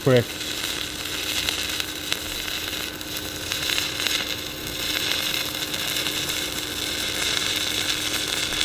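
A Yeswelder 205DS Pro arc welder burns quickly through metal: steady crackling sizzle with a constant electric hum, a continuous buzzing burn that runs without pause, close by and moderately loud.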